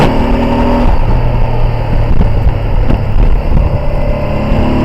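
Honda NT650 V-twin motorcycle pulling away and accelerating, engine drone climbing then dipping briefly as it shifts into third and revs again, loud and close throughout with no talk.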